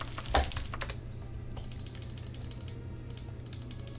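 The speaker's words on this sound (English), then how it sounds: "I apologise for the mouse clicking, if you can hear the mouse clicking" Rapid, close computer mouse clicking during play of The Elder Scrolls II: Daggerfall Unity, bursts of sharp mechanical clicks over a low background hum, with no voices.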